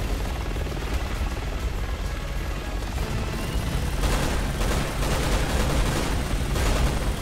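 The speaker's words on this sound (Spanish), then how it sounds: "Eso que han traído es un helicóptero blindado." Armored helicopter in the video game Resident Evil 6: a steady, loud rotor and engine drone fills the whole stretch, with bursts of gunfire and impacts thickening the mix in the second half.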